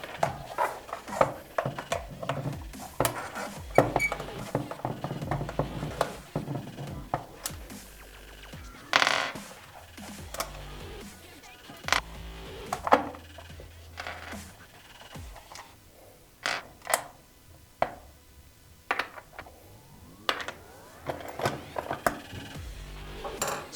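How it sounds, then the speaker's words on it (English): Metal clicks, scrapes and small clatters come from removing six bolts with a 4mm Allen key on a 2025 Yamaha R3, a close, irregular run of taps and tool handling with short pauses. "We then use our 4mm Allen key to remove these 6 bolts."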